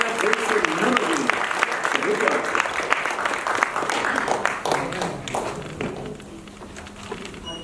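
A theatre festival audience applauds steadily after a performance of the play Court Marshal, with dense clapping that stays fairly loud and slowly tapers off. Voices are heard over the clapping.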